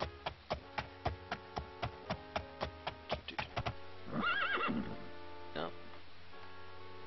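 A horse in the Daggerfall video game clip-clops in a steady run of hoofbeats, then gives one loud whinny, followed by a faint lower snort over a constant background hum.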